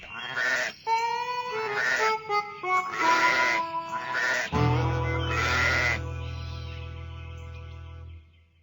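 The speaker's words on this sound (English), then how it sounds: "The sheep." Sheep bleat in a run of loud, wavering calls close by, several overlapping cries in the first half followed by a long, drawn-out bleat that fades near the end.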